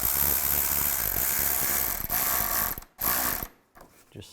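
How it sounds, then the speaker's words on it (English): A radiator hose clamp is tightened on a 2002-2009 Chevy Trailblazer, giving a steady close mechanical ratcheting whir that runs continuously, then breaks into a few shorter bursts and stops. "Take the clamp, put the clamp over the hose. Get the hose on the radiator. And tighten down the clamp"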